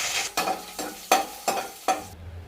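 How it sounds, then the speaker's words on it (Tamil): Mustard seeds, urad dal, curry leaves and chilies sizzle in hot oil while a spoon scrapes the pan in five quick, evenly spaced stirring strokes, close and fairly loud. "நல்லா காஞ்சிருச்சு கடுகு உளுந்தை சேர்த்துக்கலாம் கருவேப்பிலை மூணு மிளகா பத்தை கிள்ளி வச்சுருக்கேன் அதை போட்டுக்கலாம்"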